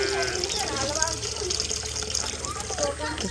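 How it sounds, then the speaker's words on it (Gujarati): Water pouring from a hose pipe straight into a container at a village home, a continuous splashing gush that stays steady throughout, close by, with faint voices in the background. "ચલો નેક્સ્ટ તો પાણી ભરીએ ડાયરેક્ટ નરી પકડી રહી"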